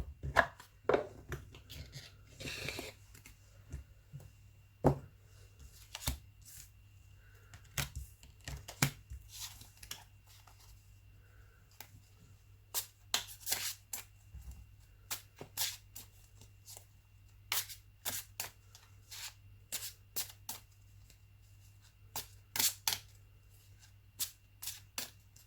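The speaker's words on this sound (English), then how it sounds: "I'm going to pull a tarot card" Tarot cards are shuffled by hand in short, repeated riffling and slapping bursts spaced irregularly over about twenty-five seconds, quiet and close with no talking.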